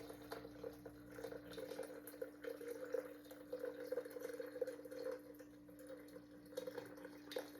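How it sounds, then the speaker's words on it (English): Strained coffee pours into a stainless steel bucket as a faint, steady trickle, a continuous soft liquid splash with small dripping flutters under a low background hum. "I'm just pouring it into the bucket."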